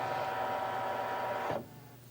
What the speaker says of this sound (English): let's go ahead and scan this in before we totally run out of time